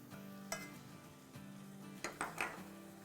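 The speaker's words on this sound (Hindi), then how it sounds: "बस अच्छे से भूनेंगे तकरीबन 1 मिनट के आसपास, ताकि हमारा आटा अच्छे से भुन जाए।" Maida flour being stirred and roasted in a pan for Mexican chicken enchiladas, with a few light utensil scrapes and clinks over a low, quiet background, close but faint.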